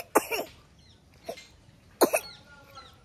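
An elderly woman, unwell with a cold, coughs three times in short separate bursts, close and fairly loud against a quiet room, with a brief throat-rasping tail after the first and last.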